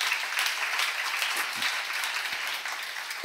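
A church seminar audience breaks into applause, a steady, dense patter of many hands clapping that holds for the whole stretch.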